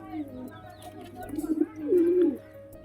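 Pigeons cooing inside a loft, soft low rolling coos rising to a louder throaty burst near the end, close by.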